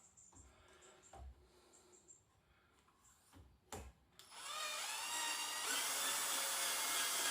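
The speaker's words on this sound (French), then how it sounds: "Alors on sent dans la perceuse quand ça force." Power drill boring out a bullet lodged in a gun barrel: a few faint scrapes and knocks, then a loud, sustained high whine of the drill biting into metal for the last three seconds.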